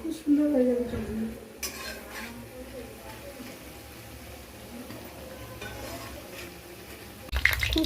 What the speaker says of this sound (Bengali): লাল লাল করে ভাজা হয়ে গেছে, একটু মচমচে হয়ে গেলে তুলে নেবো